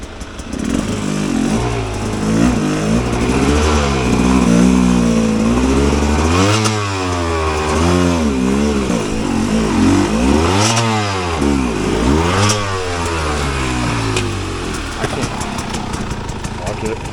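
Rieju MR 300 Pro dirt bike engine on rocky singletrack, revving hard and loud up close in repeated rising and falling bursts, with a rider talking over it.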